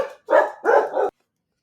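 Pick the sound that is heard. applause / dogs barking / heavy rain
dogs barking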